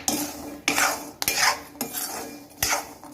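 A utensil stirs peanuts roasting in a pan over a medium gas flame, giving four sharp scraping clatters at roughly even intervals, loud and close with no talk.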